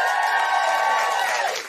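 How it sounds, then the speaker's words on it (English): An audience at a live podcast recording cheers and whoops in a loud, sustained burst that tapers off at the end. "Just give us a cheer if you're going to buy the list."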